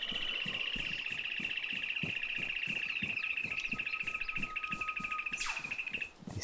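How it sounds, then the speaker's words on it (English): Loud, constant bird chirping fills a brushy area in the video game Arma 3, a fast repeating trill over a pulsing rhythmic ambience, with a brief whistle-like sweep near the end. "These fucking birds."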